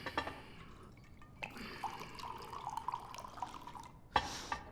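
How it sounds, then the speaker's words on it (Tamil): A drink is poured into a glass, a faint, close trickle of liquid with a few small splashes and clinks in a quiet room. "முதல்ல இன்னொரு ரவுண்ட் ஊத்து."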